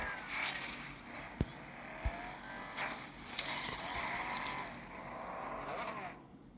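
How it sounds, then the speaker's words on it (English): A Koenigsegg Jesko in a racing video game skids, its engine whine and squealing tires sweeping through several rising and falling passes, with a couple of sharp knocks, moderately loud throughout. "Speaking of skidding, there we go."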